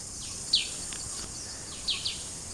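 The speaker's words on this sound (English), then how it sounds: "Just wanted to give you a little taste of the jungle scene here and the various insects and birds you can hear" Jungle birds in Thailand give a few brief, high chirps, one early and a pair near the end, over a steady hiss of insects.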